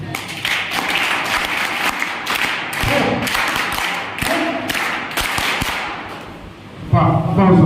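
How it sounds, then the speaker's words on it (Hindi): A gathered audience at a Namami Gange clean-Ganga event in Kaimur claws out welcome claps, a loud run of sharp, uneven clapping bursts close by, ending with a burst of voices. "विशेष तौर पर 3 ताली से स्वागत करेंगे।"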